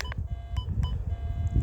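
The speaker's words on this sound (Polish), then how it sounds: "więc troszkę jest sygnał dźwięku wiodącego" A Rutus Versa metal detector in a forest gives short electronic beeps and a steady thin signal tone, heard close and clear over low rumbling background noise.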